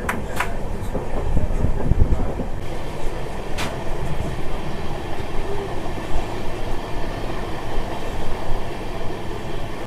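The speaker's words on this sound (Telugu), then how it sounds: "మన ట్రైన్ బ్యూటిఫుల్ కర్వ్ అయితే తీసుకుంటుంది" Kolkata–Sairang express train rounding a curve, a continuous close rumble and rattle of carriages with rhythmic wheel clacks and a couple of brief sharp squeals from the wheels.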